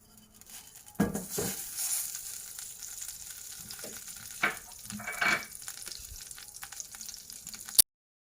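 Butter sizzling in a kadai for paneer butter masala, a soft steady frying hiss with a few louder clinks and scrapes of utensils, no talking.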